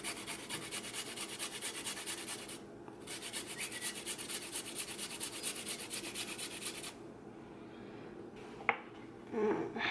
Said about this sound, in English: So you could chop it, or you could grate it